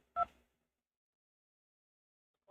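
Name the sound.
telephone keypad tone dialing 2 in support menu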